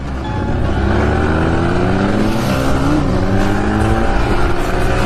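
Modified 100cc motorbike engines, such as a Splendor and a Platina, rev hard during a street race, with loud, continuous rising whines and overlapping engine tones close by throughout.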